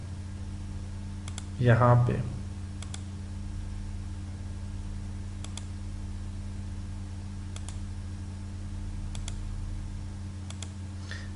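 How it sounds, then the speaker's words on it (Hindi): Computer mouse clicks while drawing with the polyline tool in CorelDraw X7: single faint clicks every second or two over a steady electrical hum, with someone speaking Hindi at times. "मैंने फर्स्ट पॉइंट यहां पे क्लिक किया, फिर यहां पे क्लिक किया"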